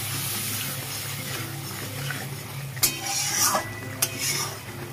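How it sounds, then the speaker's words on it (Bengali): Garam masala spice mix bubbling in a pan on the stove for chicken-stuffed potol, heard as a steady low simmer with soft sizzling, plus a few sharp clinks of a utensil against the pan near the end; no talking. "মশলাটা ফুটছে"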